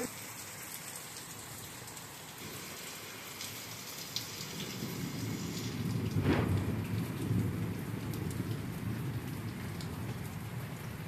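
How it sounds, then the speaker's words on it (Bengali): Heavy rain pours down steadily onto a waterlogged rooftop, a dense broadband hiss that swells louder partway through, with occasional sharper drops standing out. "প্রচুর বৃষ্টি হচ্ছে"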